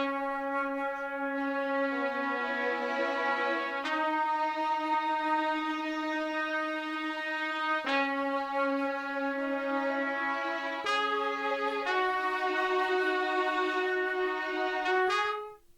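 A 70s soul-style sample layers a sung melody copy, an alto flute and a trumpet into sustained harmonic tones. The tones change pitch in steps about every few seconds, and the sound is continuous and full before cutting off at the end.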